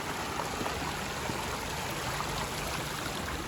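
River water rushes steadily along a rocky bank near a hidden waterfall in Karjat, a continuous, close broadband flow with no voices.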